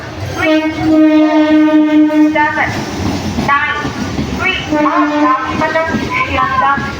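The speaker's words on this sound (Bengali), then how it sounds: "এটা ডাউন নামখানা লোকাল দু নম্বর প্ল্যাটফর্মে স্টে করলো" A down Namkhana local train pulls into a railway platform, its horn sounding in long sustained blasts, a held note and then a second call, over rumbling rail noise and nearby station chatter.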